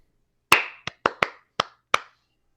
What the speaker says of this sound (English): Ooh, and clapping.